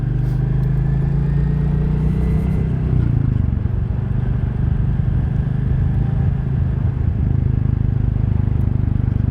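A 2022 Royal Enfield Classic 350 single-cylinder engine thumps steadily while riding through Spanish countryside, a loud continuous low drone with a slight shift in pitch early on, accompanied by wind rumble and no talking.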